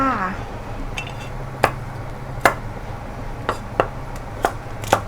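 A knife chops long beans on a cutting board: about seven sharp, crisp cuts at an uneven pace over a low, steady background hum.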